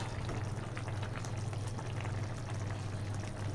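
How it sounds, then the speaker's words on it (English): Coconut milk pours into a pan of eggplant, a soft continuous liquid hiss and gurgle at low volume for a few seconds, with no voices. "Then this is eggplants. And I put coconut milk."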